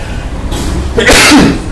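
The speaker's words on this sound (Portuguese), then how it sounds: "Espirro ao vivo, bom dia." A single sharp human sneeze bursts out close to the microphone, loud and brief, after a quiet moment.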